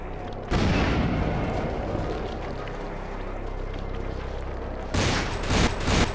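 A grenade blast in Vampire: The Masquerade – Bloodlines, played with the Final Nights mod, bursts out as a loud booming explosion, followed by a long rumbling roar and another heavy burst near the end.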